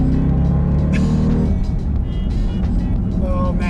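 A 707-horsepower Jeep Grand Cherokee Trackhawk SUV accelerates hard in track mode, its engine giving a loud, steady, rising roar heard from inside the vehicle with faint other sounds over it.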